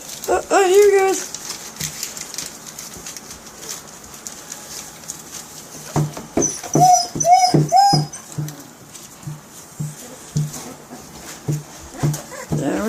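Basset hound puppies in a torn-up kennel whimper and give high, yelping cries in short bursts, close by, mixed with intermittent human talk.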